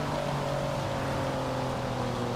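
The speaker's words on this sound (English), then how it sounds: "Listen to the exhaust." A steady, droning exhaust from a naturally aspirated Porsche GT3 RSR race car in Forza Horizon 5 hums at a constant pitch, loud and unbroken throughout.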